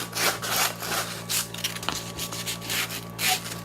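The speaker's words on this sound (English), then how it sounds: "So I'm just gonna sand it down" A homemade cleaver with a handle being sanded down by hand, continuous close abrasive rubbing strokes at a steady back-and-forth rhythm, fairly loud and heard alone.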